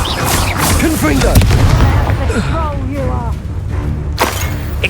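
Confringo blasting curse explosions in a Harry Potter video game, loud booming bursts mixed with dense combat effects and shouted spell casting throughout.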